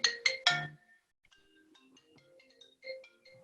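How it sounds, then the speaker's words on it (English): A mobile phone ringtone chimes three times loudly, then trails into a softer melodic tune during a legal discussion panel, heard alone with no talk over it. "so my phone going"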